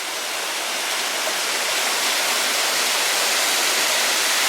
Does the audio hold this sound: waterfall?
yes